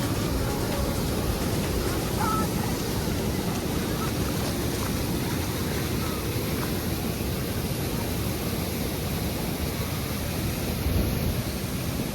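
Continuous broad rushing of water fills the scene evenly, a steady wash of a round coracle boat gliding over a flowing river at Hogenakkal, with no voices.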